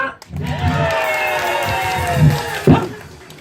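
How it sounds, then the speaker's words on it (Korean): A crowd at an outdoor pumba folk performance in Hampyeong claps and cheers in a loud, sustained roar, with a sharp burst of clapping near the end. "자, 박수 함성."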